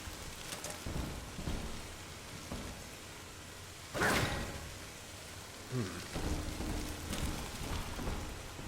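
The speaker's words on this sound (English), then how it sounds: "A soft pitter-patter of rain on your head" Rain falls steadily in BioShock 2's Adonis Luxury Resort, a constant broadband wash with brief louder gusts like distant thunder, and a faint voice murmuring in the background.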